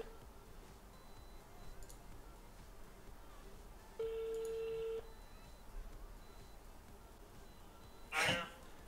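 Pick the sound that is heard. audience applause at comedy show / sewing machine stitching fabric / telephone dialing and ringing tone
telephone dialing and ringing tone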